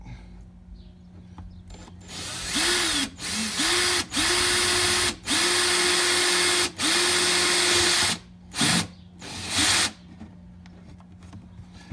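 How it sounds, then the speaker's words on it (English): Cordless drill fitted with a stepped uni bit boring through 1977 Suzuki TS250 motorcycle fenders, several loud whining bursts of a few seconds each, stopping and starting in short pulses, close by with no talk. "We're gonna start drilling the fenders. I got my drill here."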